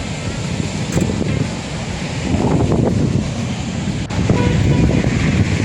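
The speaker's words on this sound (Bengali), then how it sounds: "সমুদ্রের ছলাক ছলাক জলের আওয়াজ পাবো" Sea waves at Puri beach wash in with a steady broadband roar under wind buffeting the microphone, loud and continuous, with swells in intensity at a few points.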